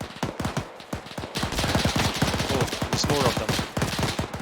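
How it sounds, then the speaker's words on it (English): Gunfire in ArmA3 combat, dense rapid bursts of automatic shots crackling loudly and continuously at close range, with someone speaking briefly over the shooting. "someone is shooting at me"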